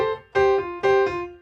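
A short piano fill with a grace note: two quick struck notes, each with a brief decaying ring, close and clear with no talking.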